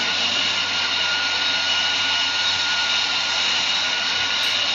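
A rocket-like flight vehicle takes off in a video game, giving a loud, steady jet-like roar that holds without a break from start to finish.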